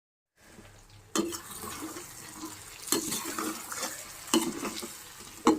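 Chicken fry cooking in a pan, soft sizzling broken by several scraping stirs and clanks of a utensil against the pan, close and moderately loud.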